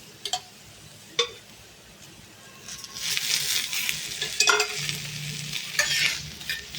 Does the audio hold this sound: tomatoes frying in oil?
yes